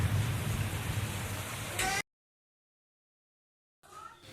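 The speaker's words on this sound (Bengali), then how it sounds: "আজকেও বৃষ্টি" Steady rain falls outside during the monsoon, a close, dense hiss that cuts off abruptly into silence before resuming more faintly.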